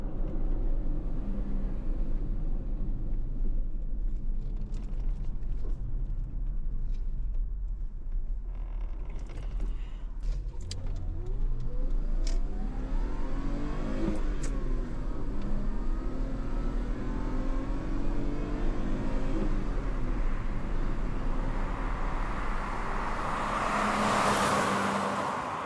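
BMW E30 320i being driven hard through the gears, the engine note climbing, dropping at each shift and rising again, heard close from inside the car with road noise and occasional creaks.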